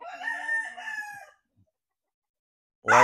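A white Kelso broodcock rooster gives one full, loud crow lasting about a second, then after a short silence starts another crow that is cut off at the end.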